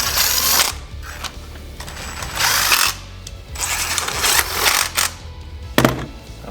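Mechanical tool work while a screw is threaded in to fasten a plastic cover on a Honda GX630 engine, with bursts of buzzing, whirring noise and small clicks and clatters, close and moderately loud, with no talking.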